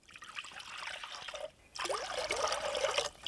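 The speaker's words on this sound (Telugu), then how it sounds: "ఇదిగో 3 గ్లాసులు నీళ్ళు పోస్తున్నాను" Water is poured into a clay pot for ragi mudda, a close trickling splash that pauses briefly and then resumes in a steady stream before it stops.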